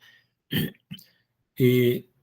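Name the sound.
throat clearing cough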